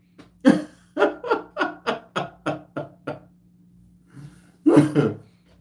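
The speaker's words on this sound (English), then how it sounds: "let me clear my throat" A close, rapid series of about nine raspy throat-clearing bursts, then a short pause and one louder, heavier clearing.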